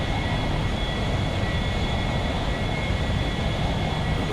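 An A-4E jet on approach in a flight simulator game, a steady broadband engine roar with a faint high whine, constant and unchanging throughout, moderately loud with no talking.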